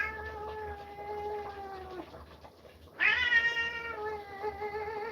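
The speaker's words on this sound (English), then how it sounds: "Oh, you grumpy cat." An old, grumpy cat gives two drawn-out meows close by, the second louder and more strained, with a short pause between them and no talking.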